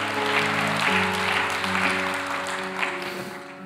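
A church audience keeps up sustained, dense clapping that slowly tapers toward the end, with sustained organ-like tones running beneath the applause.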